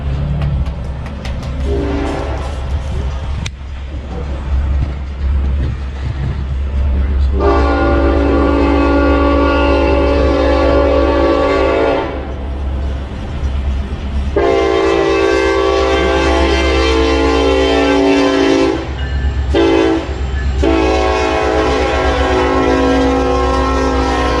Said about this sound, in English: the ambiance of what this is like when the train goes by